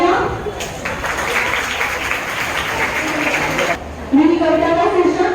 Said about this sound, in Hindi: आप सभी के लिए तालियां